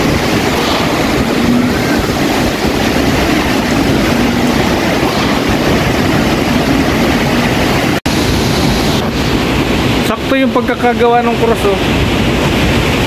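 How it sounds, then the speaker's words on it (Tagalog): Strong, gusty typhoon wind roars steadily across the microphone, with voices talking over it near the end. "Hangin lang yan."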